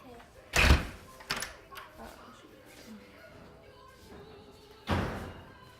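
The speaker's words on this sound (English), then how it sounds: "I'm locking this door, so you're not coming back in." A door is shut and locked in a house, with a sharp thud early on, a smaller clunk of the lock soon after, and another heavy knock near the end, over quiet room tone with faint voices.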